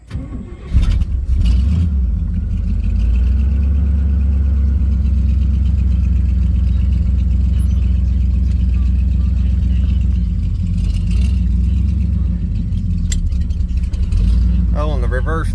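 A 1967 Chevrolet Chevelle drives down the road, its engine loud and close with a steady low rumble that rises under acceleration and holds through the drive, while a voice speaks over it.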